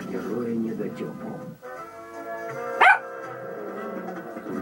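A dog in a remote roadless Russian village gives one sharp bark partway through, close, amid a humming, murmuring background.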